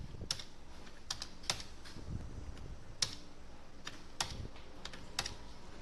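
A computer keyboard is typed on in sparse, separate clicks at a quiet, close level, the keystrokes spaced irregularly over faint background hiss.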